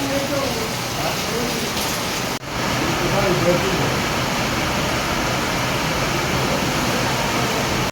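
Heavy rain falls with water pouring down from above, making a loud, steady broadband rush that is briefly interrupted, while a voice is faintly audible beneath it.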